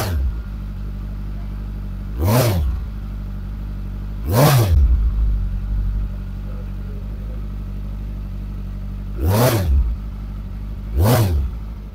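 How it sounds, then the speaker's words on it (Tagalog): LFC 700 Pro 600cc cruiser motorcycle idling with a deep, loud exhaust rumble, punctuated by four sharp throttle blips that rise and fall, two close together early and two more near the end. "Ganun po kaganda yung ating exhaust sound para dito mga idol."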